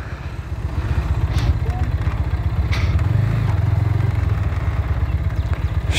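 A GPX Demon motorcycle idles nearby, a steady low rumbling putter with a rapid even pulse that swells a little midway, in an outdoor heritage-town setting.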